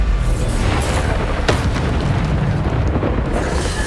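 Bombarda explosion spells in the video game Hogwarts Legacy boom loudly amid a dense, continuous roar of blasts and crackling impacts, with no talking.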